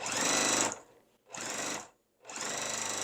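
A sewing machine doing free motion quilting, stitching in the ditch on a quilt, runs in three loud, close bursts of rapid stitching separated by brief pauses.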